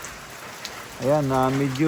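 Heavy rain falls steadily on a farm in Castillejo, Zambales, a dense broadband wash that continues under someone talking for most of the stretch.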